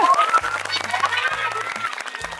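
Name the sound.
audience applause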